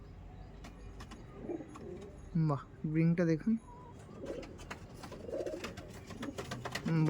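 Pigeons in a loft give a few soft, throaty coos close by, a short burst in the middle, while someone talks quietly and other birds chirp faintly in the background.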